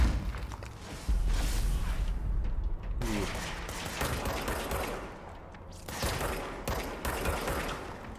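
Gunfire in the video game Control comes in dense, sustained bursts of rapid shots with thuds and impacts, loud and continuous for most of the stretch.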